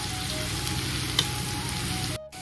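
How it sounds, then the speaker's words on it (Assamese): Potato pieces fry in a wok with oil left over from frying fish, giving a continuous close sizzle with a brief stir partway through. "আলুখিনি ভাজি ল'ম অলপ মাছ ভজা কেৰাহীটোতে তেল আছিলে যিহেতু ইয়াতে অকণ ভাজি ল'লোঁ"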